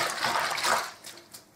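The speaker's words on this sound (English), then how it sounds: "I'm going to agitate the water in a bit to mix it up." A hand swishes a basin of wash water mixed with hand wash liquid, producing close sloshing and gurgling splashes that swell, then fade with a few smaller swirls, with no talk.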